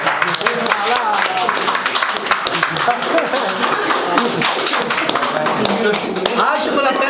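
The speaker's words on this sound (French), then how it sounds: "on va vous applaudir là" Audience clapping at a Shavuot Shabbat gathering, a dense, steady patter of many hands sustained throughout at close range, with voices mixed in underneath.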